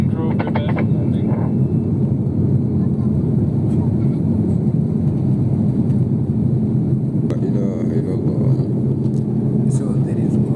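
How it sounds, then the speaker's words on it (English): A Qatar Airways airliner descends toward landing on the Doha to Entebbe route, its cabin filled with a loud, steady low roar of engine and airflow, with a few faint clicks and rattles. "The aircraft is inside a cloud."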